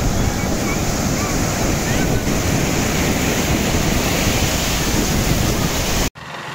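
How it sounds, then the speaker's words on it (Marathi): Loud, continuous roaring surf of large waves at Ganpatipule beach on the Konkan coast, with wind buffeting the microphone, ending abruptly in a sudden cut to quieter sound. "इथे लाटा थोड्या मोठ्या येतात"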